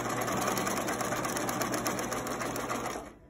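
A sewing machine runs steadily, top-stitching over the pleats of a cloth surgical mask with cloth ties, a close, continuous mechanical whir that stops near the end.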